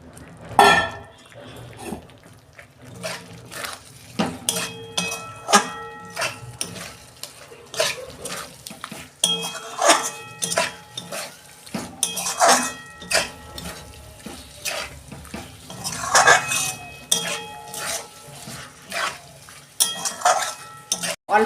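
Pieces of ash gourd go into a pan of cooked-down spice paste, followed by repeated metal clinks and clatter of a spoon against the pot, with a light sizzle underneath throughout.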